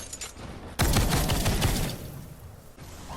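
Steampunk weapon firing on a smasher enemy in Fortnite Save the World: a loud, dense stream of rapid shots, a sudden heavy burst in the middle, then continued fire trailing off slightly.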